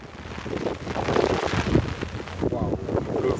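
Gusty wind buffeting a microphone outdoors at a classic car gathering, producing uneven low rumbling bursts that swell and fade throughout, with faint voices in the background.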